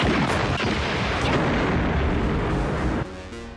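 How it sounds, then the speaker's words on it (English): Loud, dense gunfire and booming blasts from the RoboCop film, a sustained roar of shots and explosions that cuts off abruptly near the end. "Ooh, guns, guns, guns!"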